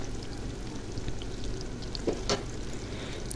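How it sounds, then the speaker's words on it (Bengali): Pakora frying in a pan gives off a steady, soft sizzle and bubbling of hot oil, with a couple of brief louder crackles near the end and no talking. "তো এই যে এভাবে আমি সবগুলো ভেজে নিব।"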